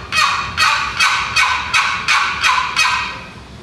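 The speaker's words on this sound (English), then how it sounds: "So with a yelp on a box call like this" Seven raspy turkey yelps scraped on a wooden box call, loud and close, in an even, slightly quickening rhythm.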